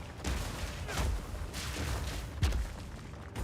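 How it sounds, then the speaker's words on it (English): A series of heavy booming blasts from a big explosion in a fantasy action video game, three or four rumbling impacts about a second apart, fairly loud with no talking. "big explosion coming."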